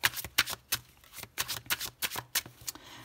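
Tarot cards are riffled and shuffled by hand, a run of quick crisp papery bursts in an uneven rhythm, close and fairly quiet with no talking.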